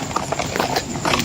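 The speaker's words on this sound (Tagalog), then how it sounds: "Ito ay ang tunog ng tumatakbong kabayo." A running horse on a dark street, its hoofbeats clip-clopping in a quick steady rhythm for a brief moment, moderately loud.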